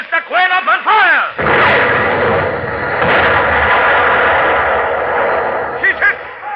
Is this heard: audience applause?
no